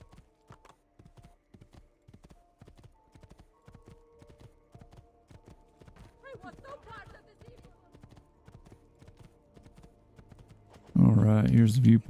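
Rhythmic hoofbeats clip-clop steadily as a horse gallops in Assassin's Creed II, with a brief whinny-like sound in the middle and a loud burst of noise at the end.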